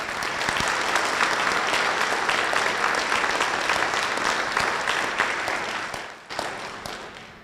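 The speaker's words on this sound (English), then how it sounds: "So I'd ask everybody to give them a round of applause." An audience at a surgical congress presidential address gives a sustained round of applause. The clapping is dense and steady, dips briefly near the end, then picks back up.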